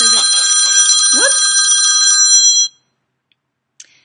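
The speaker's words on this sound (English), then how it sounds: "I got a phone call." A phone rings with a bright, bell-like electronic tone, loud and close, sustained for a couple of seconds before stopping abruptly, followed by a brief faint click and a short trailing blip.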